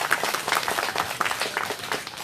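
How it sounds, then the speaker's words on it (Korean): Steady applause from a crowd at an outdoor Wednesday protest rally against the THAAD missile deployment in Soseong-ri, dense clapping sustained without a break. "힘찬 박수 보내주십시오."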